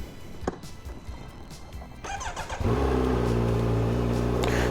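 A 2025 Kawasaki Z900 motorcycle engine with stock exhaust fires up and settles into a loud, steady idle close by, after some rustling and shuffling.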